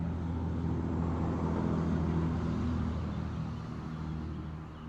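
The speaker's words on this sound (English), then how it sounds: "a big truck went by making too much noise" A big truck drives past, its loud low engine and road rumble filling the clip steadily before easing slightly toward the end, with no talk over it.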